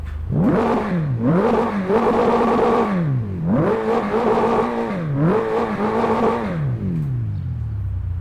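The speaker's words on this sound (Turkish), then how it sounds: "Bir size şöyle bir egzoz dinleteyim." A Doğan SLX car engine in the Assetto Corsa video game revs repeatedly, its pitch climbing and falling in several loud surges, with a throaty exhaust note and no talking.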